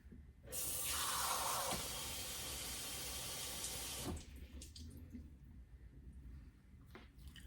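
Cold water gushes from a kitchen sink tap in a loud, steady rush for about four seconds and then cuts off, leaving a quiet room with a few faint clinks.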